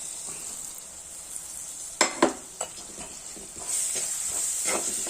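Onion and garlic fry in a pan for a fish curry, a steady sizzle and hiss with a few sharp stirring scrapes near the middle, then the frying swells louder toward the end, close and alone.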